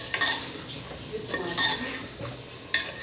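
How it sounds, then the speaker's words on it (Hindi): Mutton pieces with salt and turmeric fry in a pan for aloo gosht, with a soft steady sizzle under repeated scraping strokes of a spoon against the metal, close and moderately loud. "थोड़ा 5 मिनट और हम भूनेंगे इसको"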